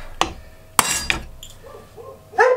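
A hammer strikes a cheap hand plane under repair three times, giving sharp, close metallic clinks in quick succession, followed by a faint rattle and a final brighter knock.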